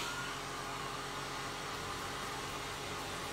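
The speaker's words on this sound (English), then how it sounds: "Let's grab the hair dryer quick, nuke that down, give it another go." A hair dryer blows continuously to dry craft paint, a steady, loud, broadband whoosh that runs unbroken from start to finish with no talking.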